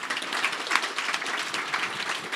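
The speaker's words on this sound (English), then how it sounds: "one more big round of applause" A round of applause from an audience for a group panel at a medical talk, a dense patter of many hands clapping at moderate level, short and steady with no voices over it.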